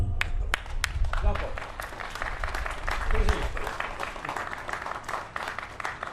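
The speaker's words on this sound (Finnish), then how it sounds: "Aplodi." Audience applause at a Halinga brass choir concert in Finland: dense, sustained clapping fills the whole stretch, swelling and easing slightly, with some talk mixed in.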